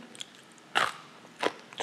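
Two loud, close crunches from biting crunchy roasted chickpeas, spaced well apart, with a fainter crackle at the end.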